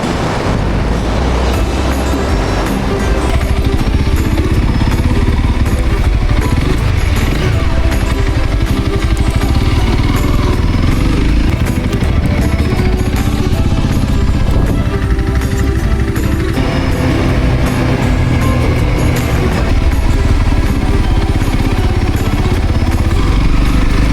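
Honda CRF300L motorcycle engine running steadily and loudly up close, a dense continuous drone that holds unchanged throughout, with an odd noise developing.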